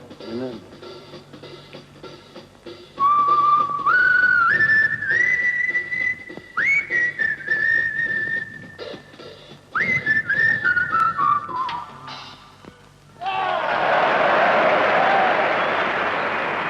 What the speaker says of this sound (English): he whistled a little tune